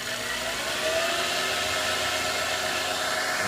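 G0704 milling machine with a belt drive and 1100 watt motor, spindle running at high speed in high gear: a steady, smooth whirring hum with airy hiss, constant and close, no voices.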